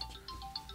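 A cellphone rings with a quiet, repeating electronic tone in short pulses, faint and heard alone.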